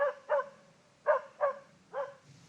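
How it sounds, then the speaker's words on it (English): A dog barks six times in three quick pairs, each pair a double bark spaced about a second apart, moderately close with no talk over it. "Can you tell which direction the dog is coming from?"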